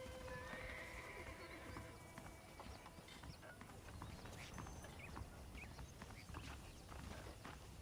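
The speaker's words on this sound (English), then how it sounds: "I picked out a fine horse for you." A horse in the video game Red Dead Redemption whinnies while its hooves clip-clop at a walking pace. The steady hoofbeats continue throughout with faint ambient background.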